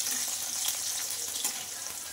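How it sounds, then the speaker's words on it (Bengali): Carrots fry in a pan with oil in a home kitchen, giving a steady, bright sizzle with light crackles throughout. The sound is close but fairly soft, with no voices. "দেখো এদিকে গাজর ভাজা হচ্ছে"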